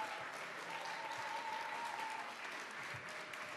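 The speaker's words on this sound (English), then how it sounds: "A round of applause for Bangladesh." Audience applause in the ECOSOC Chamber during a senior-level meeting, a dense, even patter of many hands clapping, sustained throughout at moderate distance.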